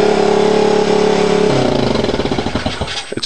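Small two-stroke dirt bike engine, mistakenly run on four-stroke gas and smoking a little, holds a steady loud idle, then blips into a buzzy revving patter with sharp throttle bursts, close and alone.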